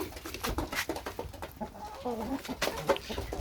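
Several hens of the Dominant breed cluck and murmur softly nearby, with short bursty calls and a few higher notes overlapping throughout.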